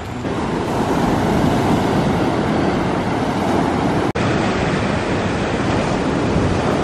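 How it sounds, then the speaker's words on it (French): Steady roar of big ocean surf crashing continuously on a Costa Rica coast, loud and broadband with wind noise over the microphone, no voices. "Ici il y a quand même de sacrées vagues"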